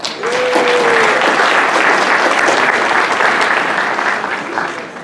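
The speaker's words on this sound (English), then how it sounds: "Let us give them a round of applause." Audience applause at an extension educators' seminar honoring its planners, steady full-room clapping that holds loud throughout with little variation.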